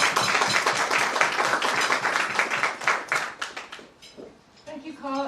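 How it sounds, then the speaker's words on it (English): Audience applause greeting a speaker at a talk, dense clapping for about four seconds before thinning out, with a voice starting to speak over the fading claps near the end. "and a big round of applause."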